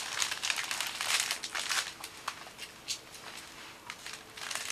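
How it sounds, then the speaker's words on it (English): Clear cellophane crinkles and rustles close up as it is gently rolled around a single long-stem rose, in soft irregular bursts of crackling. "just gently catch the cellophane and just gently roll"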